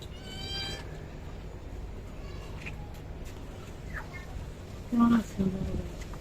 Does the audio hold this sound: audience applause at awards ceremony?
no